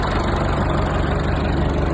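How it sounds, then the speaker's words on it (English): Old tractor engine running steadily while powering a grass topper cutting deck on a large grass field, a loud, dense, continuous rumble with no talk. "we've got Big Red on the old tractor with the uh, cutting deck"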